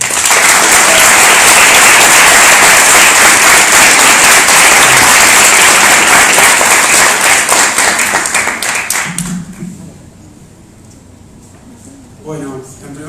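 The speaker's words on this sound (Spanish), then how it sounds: "Un aplauso." An audience applauds a guest speaker at a democracy lecture in Mexico, loud sustained clapping for about nine seconds that fades quickly, then a few voices and a brief final patter.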